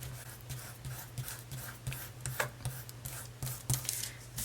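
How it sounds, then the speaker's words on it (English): A finger rubs metallic foil onto a die cut paper piece, making soft, close, intermittent scratchy rubbing strokes over a faint steady hum, with no talking. "I'm just going to rub it with my finger a little bit, and that's going to rub the foil onto the die cut piece."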